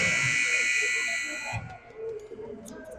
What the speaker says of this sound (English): the buzzer sounds and Rogers wisely pulls up